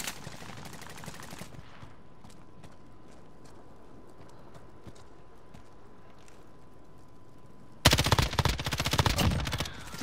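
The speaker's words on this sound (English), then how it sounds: "Shit! I'm taking fire!" Gunfire in Call of Duty Modern Warfare: a rapid burst of close shots at the start, scattered quieter shots in the middle, then a loud sustained automatic burst near the end.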